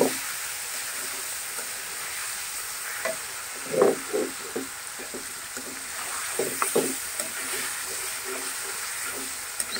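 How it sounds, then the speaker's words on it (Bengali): Bottle gourd greens frying with garlic paste hiss steadily while a spatula stirs in short scraping bursts, close and fairly soft, no talking. "রসুন বাটা দিয়ে একটু সুন্দর করে এটাকে নাড়িয়ে টাড়িয়ে দেবো"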